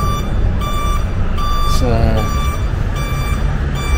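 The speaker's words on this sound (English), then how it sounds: "That's my indicator buzzer going." A car's indicator buzzer beeps in a regular repeating rhythm much like truck reversing beeps, loud and close, with a brief word spoken partway through.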